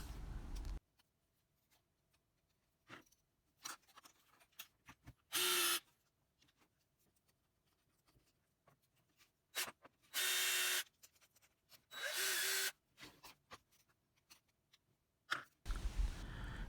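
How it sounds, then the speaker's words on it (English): Short bursts of drilling pressed down a little at a time, several separate whirring spurts of a second or so between quiet gaps with faint handling clicks and rubs. "We just need to drill and press down and just do it a little by a little."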